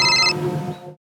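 A telephone rings in a single short electronic trill, loud and close, then cuts off abruptly into silence.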